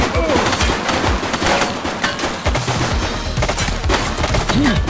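Heavy, sustained gunfire fills a shootout in The Precinct video game, loud overlapping bursts and volleys rattling continuously with a faint voice underneath.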